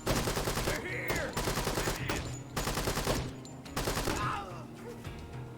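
Rapid bursts of gunfire from the tactical shooter Door Kickers, loud and close, in several dense volleys with short gaps, mixed with game effects and no talking.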